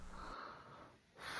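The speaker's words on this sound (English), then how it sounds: "For the rumble, you can just blow into your mic." Breath blown straight into a microphone for the low rumble of a fire effect, a short close breathy gust with muffled wind buffeting that briefly dips and then surges again.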